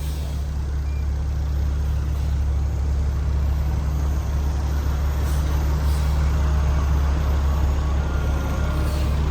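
A stuck truck at a job site grinds along with its wheels spinning, producing a loud, steady engine roar and rumble that runs unbroken throughout, with no voices.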